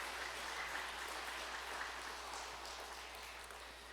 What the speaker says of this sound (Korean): 하나님께 감사와 영광의 박수를 올려드리겠습니다.